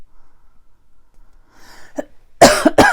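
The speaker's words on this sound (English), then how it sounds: "Oh no, I want to cough." After near silence and a faint breath, one sharp, loud cough bursts out close by, followed quickly by a second shorter cough.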